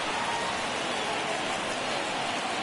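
Steady rain hisses down on a ballpark in MLB The Show 22, a dense, even wash of falling drops with no breaks.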